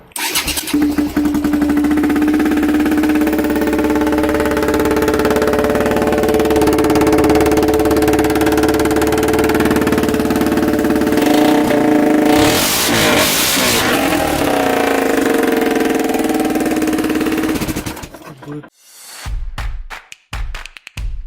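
A four-stroke KTM dirt bike fitted with a two-stroke exhaust runs loud and steady with a raspy exhaust note, revs sharply for a moment, then cuts out into sputtering silence near the end.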